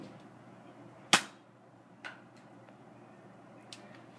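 A Buzz Bee Pirate Flintlock Nerf-style toy pistol fires a dart with one sharp, close snap, followed by a couple of fainter taps over a low steady background hiss.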